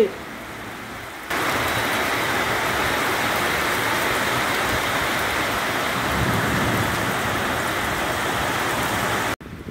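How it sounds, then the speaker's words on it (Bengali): Heavy rain pours down steadily in a loud, dense wash that starts abruptly and runs almost unbroken, with no voices over it. "দেখুন কি জোরে বৃষ্টি হচ্ছে"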